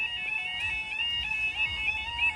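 A faulty alarm at the Noose Lane level crossing rings continuously as a steady, high electronic tone with regular pulsing repeats, moderately loud and close, over faint background rumble.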